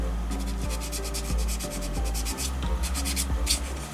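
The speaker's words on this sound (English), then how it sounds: "and then I roughly sand the whole body to create some tooth for the paint to stick on." Sandpaper rubbed back and forth over a 1/24 scale Audi R8 GT3 model car body, producing rapid rhythmic close scratching strokes, steady throughout with no speech.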